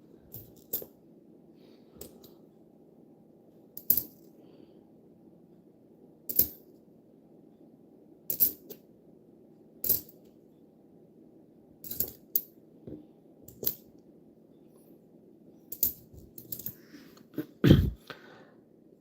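Nickels clatter and crash into a pile during coin roll hunting, a series of bright metallic jingles spaced a second or two apart, close-up over a low steady hum, ending in a louder heavier spill.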